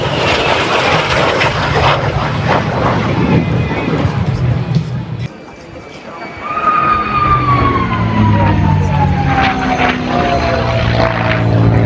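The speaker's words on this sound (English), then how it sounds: "There's just something about the supercharger of a Merlin engine in a P-51." P-51 Mustang with a supercharged Merlin piston engine passing overhead, a loud droning roar with a falling pitch sweep as it flies by, strong and steady across the whole clip.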